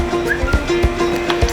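A riding horse neighing close by, a short whinny over a few hoof thuds and clip-clops in a stable setting.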